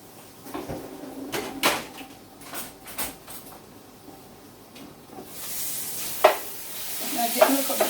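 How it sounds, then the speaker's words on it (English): Bacon crisping in a pan at a home breakfast stove, with clattering utensil knocks and stirring sounds, then a louder hissing sizzle that swells in the latter half. "Now get a little bacon all crispy over here so."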